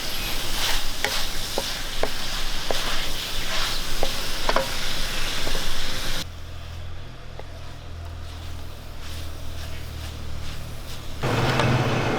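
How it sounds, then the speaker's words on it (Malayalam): Beef ularthiyathu, a Kerala dry-fried beef dish with coconut slices, stirred in a pan, giving a steady sizzle and scraping for about six seconds before the frying quiets to a softer hiss. "നമുക്ക് നല്ലപോലെ ഇളക്കി കൊടുക്കാം"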